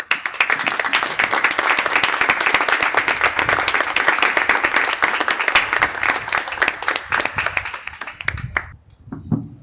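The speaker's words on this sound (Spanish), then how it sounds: "queríamos también cerrar esta primera parte de la actividad con un aplauso para la militancia de Víctor y su memoria" A lecture audience at a talk on the humanities and the environmental crisis breaks into sustained applause in memory of a comrade, dense steady clapping for about eight seconds before fading into a few scattered claps.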